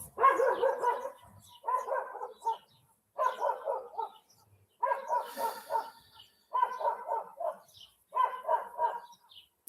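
A dog barks in repeated quick bursts, about seven clustered bouts separated by short pauses, close and clear with no talking.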